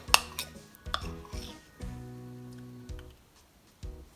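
A spoon scrapes and clinks against a jar as tahini is stirred and scooped out for a vegan Japanese-style dressing. The taps and scrapes come close up in short bursts with brief pauses between them, and no one speaks.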